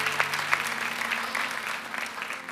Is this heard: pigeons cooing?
no